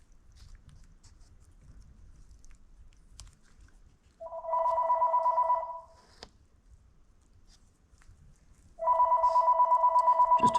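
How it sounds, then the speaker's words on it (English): A landline telephone rings in a home workshop where a John Deere two-cylinder Dubuque hydraulic pump is being rebuilt, two loud, clear bursts of electronic ringing separated by a quiet pause over a low room hum. "Just hooked a landline up here in the shop."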